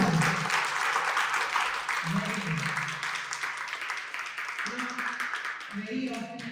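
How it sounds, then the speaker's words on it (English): Session audience clapping loudly at a stress management and meditation talk, a dense burst of claps that thins and swells, with a voice speaking intermittently over the sound. "clap for yourself nice and loud"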